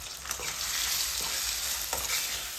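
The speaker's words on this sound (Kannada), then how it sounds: "ಇವಾಗ ನಾನು ಟೊಮ್ಯಾಟೊ ಹಾಕೋತಾ ಇದ್ದೀನಿ, ಒಂದು 3 ಟೊಮ್ಯಾಟೊ ಅಷ್ಟೇ." Three tomatoes sizzling in hot oil with curry leaves for garlic tomato rice, a close, steady frying crackle broken by a few soft scrapes of stirring.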